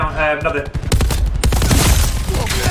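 Hades light machine gun bursts in Call of Duty: Black Ops 4, a rapid rattle of gunfire with sharp cracks close by, mixed with game noise and a voice talking over it.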